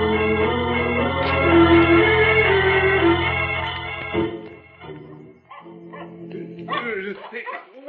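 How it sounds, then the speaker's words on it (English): A dog barking and yipping as a radio drama sound effect, several close barks mixed with voices talking, followed by shorter yips. "It's only a dog running down toward the freight yard."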